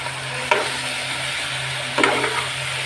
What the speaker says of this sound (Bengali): আদা জিরা বাটাগুলো একটু ভাজা ভাজা হয়ে আসলে এর মধ্যে লঙ্কা গুঁড়া হলুদ গুঁড়া সবগুলো একসাথে দিয়ে কষিয়ে বসিয়ে দেব